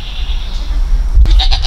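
A goat on a farm bleats loudly close to the microphone, one short wavering bleat rising over low rumbling background noise.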